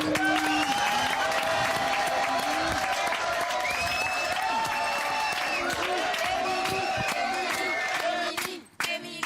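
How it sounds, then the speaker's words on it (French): A TV studio audience on a French game show applauds loudly and steadily with some cheering, a dense wash of clapping that runs unbroken before cutting off abruptly near the end. "On applaudit très très fort."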